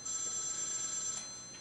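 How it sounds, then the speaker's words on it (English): A telephone rings at a home reloading bench, a steady electronic ring holding through most of the short moment before fading out, fairly quiet with no talk over it. "Oh, there goes that phone again."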